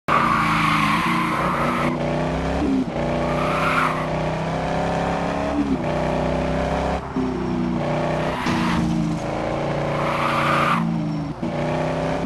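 A car in the Driving Zone mobile racing game revs and drives hard, with loud tire squeals and skids repeating throughout over a constant engine drone.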